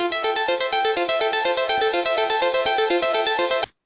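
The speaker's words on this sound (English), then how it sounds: "So it's just kind of a basic electronic harp." A basic electronic harp sample plays a quick run of bright, plucked notes in a steady rhythm, loud and alone, then cuts off abruptly near the end.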